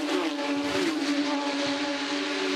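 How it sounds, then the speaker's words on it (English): Porsche Carrera Cup race car heard onboard at Bathurst, its engine holding a loud, steady high-pitched drone at speed that dips briefly as the revs shift, with nothing else over it. "On board there with Max Twigg, who leads the way in the elite class"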